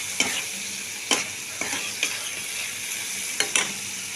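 Spice masala of turmeric, salt, chilli powder and cumin stir-fried in oil for a Bihari-style rohu fish curry, a steady close sizzle broken by several sharp scraping stirs of a spoon against the pan.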